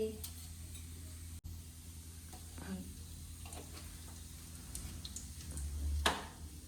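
Cumin seeds sizzling in hot oil in a home kitchen, a quiet, even crackle held throughout with light ticks and a sharp utensil tap, ending in a brief louder stir.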